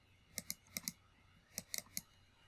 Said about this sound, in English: you can just double click the mouse, your mouse wheel button